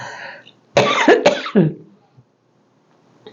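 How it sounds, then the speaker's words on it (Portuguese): A preacher coughs several times in quick succession during a sermon, harsh close bursts in a tight cluster, with a trace of voice just before and quiet afterward. "Desculpa, gente, mas eu tenho que tossir aqui"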